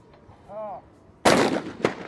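A single loud shotgun blast at a men's trap team final at an ISSF World Cup range in Lima, Peru, fired at a flying clay target, with a sharp crack and short echo tail, followed by a fainter second report after brief quiet.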